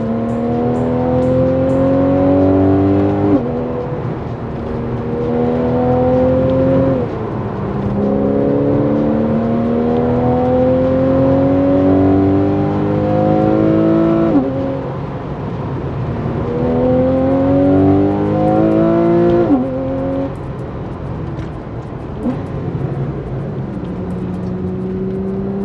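A Porsche 911 991 Carrera 4S accelerates hard, its flat-six climbing in pitch through several gears with clear drops at each shift, soft at low revs and swelling as it pulls; no talk.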